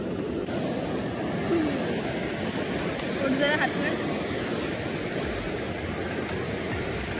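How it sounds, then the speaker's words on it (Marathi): Big sea waves breaking on a beach near a hand-built shoreline cave, a steady, heavy roar of surf filling the scene, with faint voices in the background. "समुद्र काय करू देत नाही आम्हाला, मोठा मोठा लाटा येत अजून पण"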